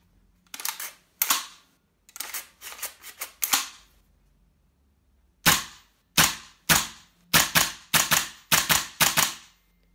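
A GHK M4 airsoft gas blowback rifle running a CO2 magazine, stiffer spring and lightweight buffer fires sharp, loud snapping shots, in quick clusters and then a rhythmic string of single shots, with no talking.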